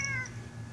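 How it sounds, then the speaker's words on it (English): A pet cat gives one short, faint meow indoors, a brief high wavering cry that quickly fades into a low background hum. "That's my cat, Toby."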